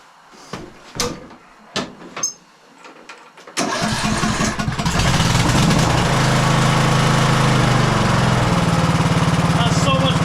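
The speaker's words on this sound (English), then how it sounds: "That's so much better with the engine. No shaking." A lawn tractor engine starts after a few clicks and knocks, then runs at a loud, steady, even idle close to the microphone for several seconds without rattling.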